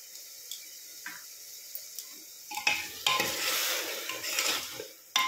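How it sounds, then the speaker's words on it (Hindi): Crushed garlic going into a pan of masala for a spiced bottle gourd dish: a soft hiss of frying swells into a steady loud sizzle, with scraping stirring strokes and light clinks throughout. "ये लहसुन डालेंगे।"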